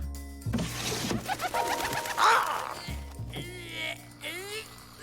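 A cartoon pigeon coos back after a soft bird call is blown, with warbling rising and falling calls in the second half, preceded by busy animated sound effects and a voice.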